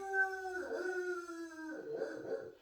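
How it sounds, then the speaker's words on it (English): A dog howls with long, sustained rising and falling tones, joined partway through by whimpering and yips, close to the microphone with no talk over it. "never can film without the dogs interrupting"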